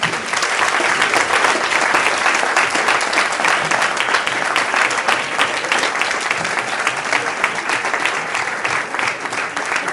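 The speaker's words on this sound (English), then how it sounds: "We're going to give a big round of applause." Sustained audience applause after a talk on the pharmaceutical industry, steady dense clapping from a large crowd filling the full stretch, loud and even, with no speech over it.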